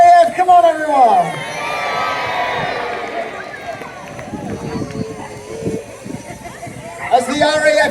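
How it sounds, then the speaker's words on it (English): A crowd at a naval gun battle show in Peasholm Park, Scarborough, cheers for the RAF, loud mixed shouts and whoops from many spectators under an announcer's voice, with a sustained roar rising and fading. "Let's have a cheer for the RAF"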